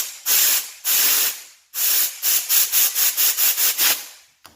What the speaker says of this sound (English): there's plenty of air going through